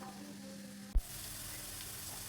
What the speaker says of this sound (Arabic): راح نقليها في شويه زيت مع شويه ملح وشويه فلفل كحل حتى تكراميليزا